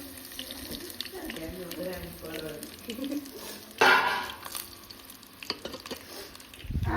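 Patra rolls drop into a sizzling tempering in a pan and are stirred. A sudden loud burst of frying follows, with crackling and scraping in between, and a person talks before it.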